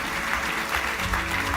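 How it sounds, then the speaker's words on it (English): Steady audience applause for a panel at a college launch event, dense and continuous throughout without any clear break or single standout claps. "please give the panel a warm round of applause"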